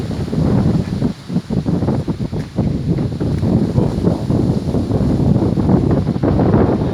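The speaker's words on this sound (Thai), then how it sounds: "ลมพัดเย็นสบายครับ" Wind blowing across open rice fields, a steady, loud rushing and buffeting against the microphone with gusty fluctuations and no speech.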